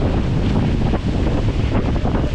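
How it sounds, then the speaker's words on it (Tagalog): Strong wind gusts roar at an outdoor boat-building site. The loud, close rumble buffets the microphone with uneven surges, and no voices are heard. "Biglang lumakas yung hangin, mga kaspagatak."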